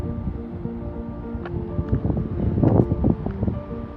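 Strong headwind buffeting a cyclist riding in Australia, steady rushing gusts with low microphone rumble, loud and close throughout.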